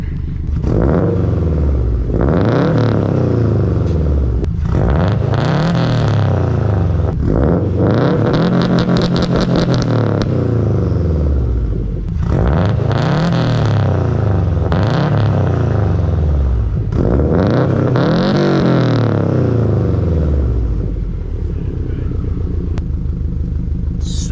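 A loud, close Subaru STI hatchback engine with an aftermarket exhaust revs repeatedly, each rev climbing then falling back with a deep, raspy burble between.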